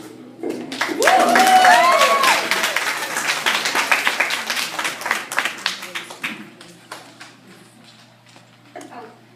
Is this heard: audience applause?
yes